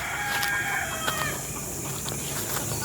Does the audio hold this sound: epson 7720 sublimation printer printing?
no